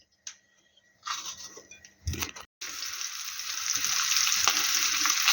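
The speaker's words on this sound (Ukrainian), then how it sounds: "Сосиски, хлеб и пошли жарить." Sausages and bread go into a hot pan and start frying, with a few clatters and bumps first, then a loud, steady sizzle that builds and holds to the end.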